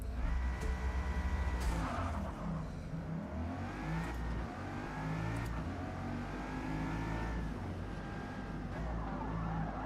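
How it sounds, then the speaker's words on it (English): A Bugatti power slides through a corner on a track in Forza Motorsport, engine droning and revving with tyre scrubbing and rising pitch sweeps, steady and close. "A Bugatti power slide."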